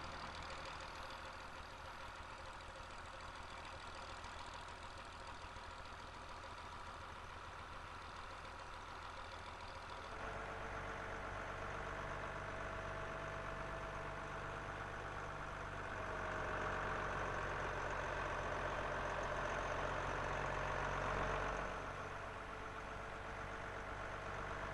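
A County 1004 tractor, used to haul Wickham Pool semi-trailers on pipeline and pylon projects, runs with a steady low engine drone that grows louder and fuller midway, swelling further before settling, with no talk.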